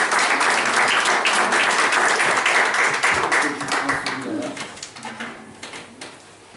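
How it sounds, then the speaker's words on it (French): A crowd at a spiritual gathering claps loudly for a few seconds, then the applause thins and fades into scattered claps, with faint voices and a pigeon-like cooing underneath. "je vous demande d'applaudir Mario, il va se présenter encore davantage."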